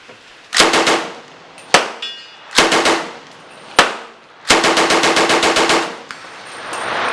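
An MKB 42(H) prototype assault rifle fires in loud, close bursts, with short strings of rapid automatic shots separated by brief pauses and one longer final burst.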